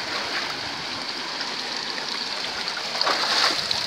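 A stream flows steadily and fairly close by, a continuous broadband rush of moving water that swells slightly toward the end, with no voices over it.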